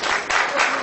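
An audience applauds in a brief, dense burst of many hands clapping together, loud and close, with no voices.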